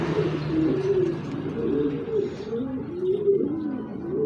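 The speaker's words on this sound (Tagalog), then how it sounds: "Ang kalapati yung aking binibidyo." A pigeon coos up close in repeated low, throaty rolling phrases, loud and continuous with faint background chirps and no talk.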